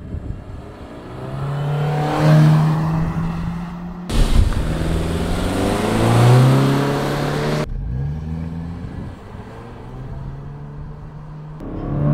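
A 2024 Subaru Impreza RS 2.5, non-turbo with a CVT in S mode, accelerating hard in a 0-60 run: a loud close engine drone rising in pitch in several stepped surges, with no talking.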